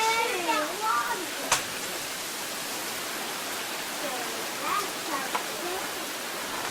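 Floodwater from the 1999 Hurricane Floyd flood rushes out of a drain pipe near a dam on Black Creek Road, a steady broadband roar filling the scene while children's excited voices call out over it.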